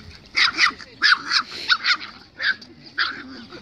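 A dog barks repeatedly at close range, short sharp yaps that come in quick bursts and then pause.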